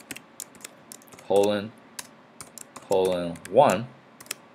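Keys clatter on a computer keyboard as a command is typed into MATLAB, with sharp scattered keystrokes around and between bursts of a man's speech.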